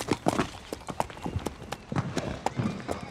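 A small mare's hooves walking toward the stables at an animal osteopath's visit in Calvados, an uneven run of clip-clop steps on hard ground, close and moderately loud with no talking.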